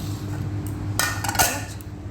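Bowls and dishes of home-cooked Bengali lunch, including mung dal, set down together, giving a few close clinks and knocks of crockery over a steady low room hum.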